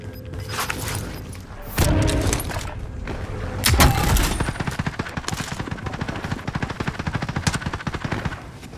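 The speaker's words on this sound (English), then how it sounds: "I don't know where that's shooting from" Heavy automatic gunfire in Call of Duty Warzone on Rebirth Island, with a couple of loud booming bursts early, then a long rapid stream of machine-gun shots close by, with no talk.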